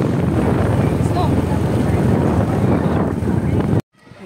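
Strong wind roars steadily across the microphone, a loud buffeting rush that cuts off abruptly near the end.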